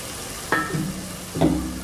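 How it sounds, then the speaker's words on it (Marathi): Red chilli powder and pav bhaji masala frying in oil on low heat, a soft sizzle with two distinct stirring scrapes of a spoon through the spices, close and fairly quiet. "लो हीट वरती हे मी मसाले परतून घेतले।"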